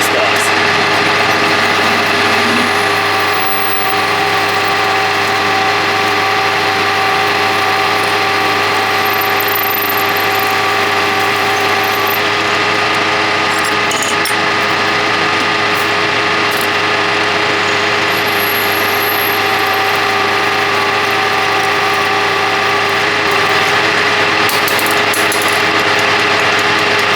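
A drill runs steadily through aluminium stock in a machine shop, a continuous loud mechanical drone with a constant hum and grinding texture that lasts throughout.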